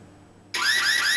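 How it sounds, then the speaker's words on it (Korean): A counter-battery artillery radar alarm at an army artillery regiment sounds abruptly after near silence, a loud, close electronic warble of repeating rising tones that continues steadily to the end. "이게 탄이라고 레이더가 인식하면 이렇게 지금 경보음이 울렸지?"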